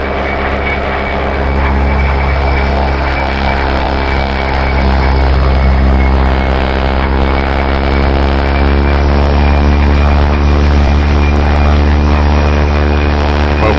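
A Bronco OV-10 propeller aircraft in the DCS flight game taxis off the runway, its twin engines a loud, constant droning roar with a steady, layered hum that never lets up.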